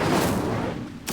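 Incendio fire spell cast in the Hogwarts Legacy video game: a dense, roaring whoosh of flame holds steady for about a second, then a brighter burst flares near the end, loud and close.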